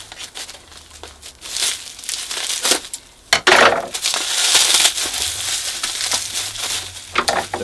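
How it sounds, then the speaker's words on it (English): Tough shrink wrap packaging with bubble wrap underneath is torn and crumpled up close, loud crackling bursts and crinkles with brief pauses between pulls. "The shrink wrap stuff is pretty tough."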